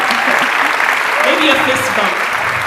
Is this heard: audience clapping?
yes